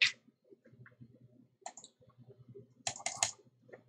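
Sharp computer mouse clicks during Python programming and debugging at a desk, a few quiet isolated clicks followed by a louder cluster of rapid clicks, with faint low background hum.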